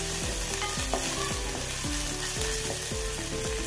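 Medium onions, freshly sliced, frying in a pan while being stirred: a steady sizzle with a regular ratcheting scrape of the spoon roughly every half second, close and continuous with no talk.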